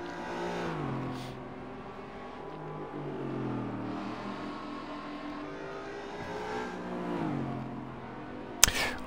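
In Forza Motorsport 7 on the Mount Panorama circuit, a 1998 Aston Martin V8 Vantage V600 engine revs through repeated climbing pitch sweeps and drops between gear changes, loud and continuous, ending in a sharp transient.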